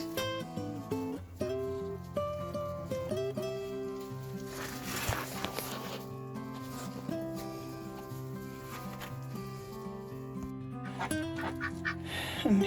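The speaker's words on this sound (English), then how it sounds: "And here are my ducks." Ducks and geese on a snowy homestead honking and quacking in loud, irregular bursts close by, with overlapping calls and occasional brief talk.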